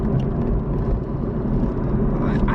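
Honda e electric car accelerating hard in sport mode, a steady loud whirring rumble from start to finish, with a brief rising whine near the end.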